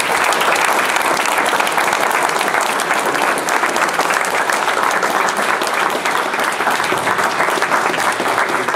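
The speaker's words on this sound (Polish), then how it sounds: "poproszę o brawa, Adam Seroczyński." Sustained applause from a ceremony audience at a canoe and kayak club's season-summary event in Olsztyn, steady and dense for the whole span with no talk over it.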